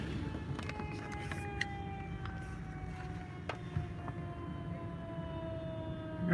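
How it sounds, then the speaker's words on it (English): A fire truck siren wails at a distance, its steady tones sliding slowly downward as it passes, over a constant rumble of road traffic with no talking. "I hear a fire truck coming."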